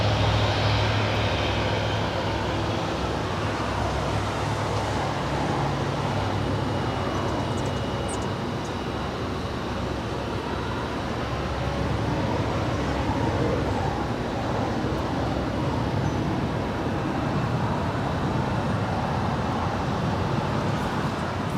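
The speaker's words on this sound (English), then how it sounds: "That is the United Dreamliner being towed over to Terminal 7 here on the south side." A United Dreamliner is towed across the south side of LAX toward Terminal 7, heard as a continuous low rumble of airport engine and vehicle noise, steady and moderately distant with no voices.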